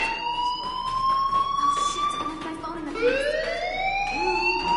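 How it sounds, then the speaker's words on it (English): A fire alarm rings in the video game Life is Strange Remastered, a steady rising-and-falling electronic wail that carries through the whole stretch, with a voice talking over it. "Hey, do you hear that fire alarm?"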